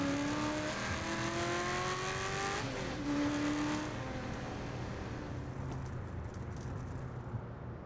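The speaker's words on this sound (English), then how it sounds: "this car sounds sexy as hell" Car engine revving in Saints Row: The Third Remastered on PS5, its rising harmonic whine climbing through several gear changes, loud and close with tire and road noise beneath, then easing off as the revs drop.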